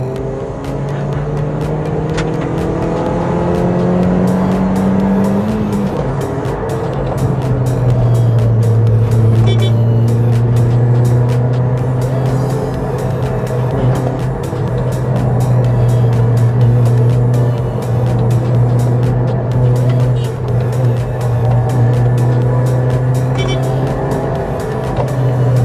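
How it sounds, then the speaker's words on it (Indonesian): A tuned Honda Brio's engine revs hard in second gear and holds high, its pitch climbing and settling into a steady loud drone, with brief shifts, close to the microphone. "Jadi kita langsung coba aja tes mesinnya di gigi 2."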